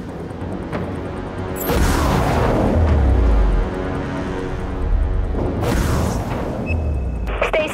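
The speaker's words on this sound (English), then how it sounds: "Firing catapult." Catapult firing from a Vucari artillery cruiser in the video game Dreadnought, two deep booming launches several seconds apart, each a loud low blast with a rushing tail over a steady background hum.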